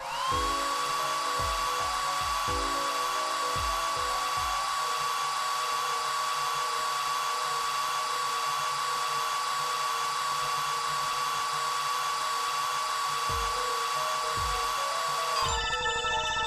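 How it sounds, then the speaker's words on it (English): A hair dryer blasts plaster to dry it in the video game Apollo Justice: Ace Attorney, a steady high-pitched whine droning on without a break, then shifting near the end, with faint low thumps beneath. "Just press X to blast it with the dryer."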